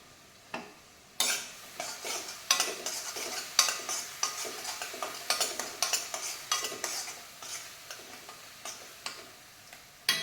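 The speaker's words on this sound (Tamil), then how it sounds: "நல்லா வதங்கட்டும்" Turmeric, coriander and cumin powders with asafoetida sautéing in oil while being stirred, with a steady sizzle and repeated scraping clicks of a spoon against the pan, close and alone.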